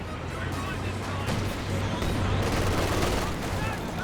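Continuous gunfire in a Company of Heroes 2 battle, dense crackling shots blending into a steady rumble of combat noise with vehicle sounds underneath, kept at an even level throughout.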